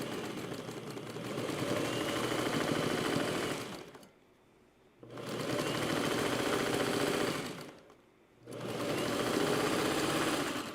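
Vintage Singer 301 sewing machine, bought secondhand and repainted, running in steady bursts of rapid mechanical stitching, stopping twice briefly between runs, close and clear with no talk.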